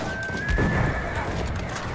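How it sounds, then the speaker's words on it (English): A horse neighs in the Battlefield 1 video game, a short whinny over hoof clip-clops and battlefield noise, with a voice talking at the same time. "Oh, horse."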